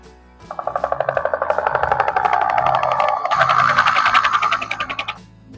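A DIY eight-channel electronic horn built on a DY-SV8F board plays a rapid, pulsing chopping sound like a helicopter, loud and continuous for several seconds before cutting off.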